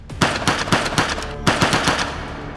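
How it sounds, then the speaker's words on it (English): Rapid bursts of gunfire, a gunman opening fire on officers inside a house, loud and close, two volleys of sharp shots in quick succession with a short gap between, no talking. "Mullen opened fire on us."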